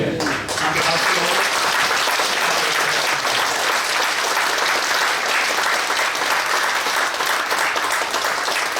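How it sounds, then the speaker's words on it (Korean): A congregation at a Presbyterian church ordination ceremony breaks into sustained, even applause from many hands, filling the room steadily for about nine seconds with no pause. "함께 박수로."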